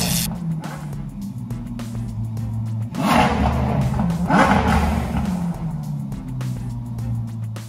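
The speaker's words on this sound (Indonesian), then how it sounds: "Mobil yang ketujuh di Isgar Andrew Tate adalah Ferrari 812." A blue Ferrari 812 engine revving, a deep roar that swells sharply twice in quick succession before settling back to a low steady rumble, loud and near.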